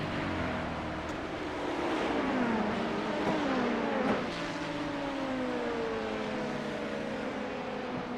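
Several LMP2 prototype race cars in the iRacing sim sweep past on an IMSA circuit, their engine notes rising and falling in pitch over a steady roar of track noise, one pass sharper around the midpoint.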